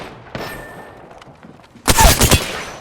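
A burst of rapid gunfire in the video game Apex Legends follows a quieter stretch with a lone earlier shot, loud and close, with no voices.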